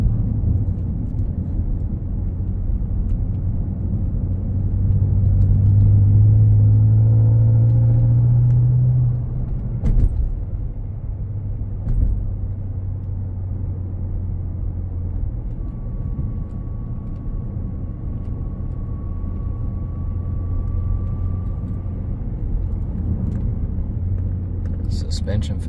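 A 2013 BMW M5 in Sakhir Orange Metallic cruises on the road, giving a steady low engine and road rumble throughout with a brief swell of engine note partway through. No talking is heard.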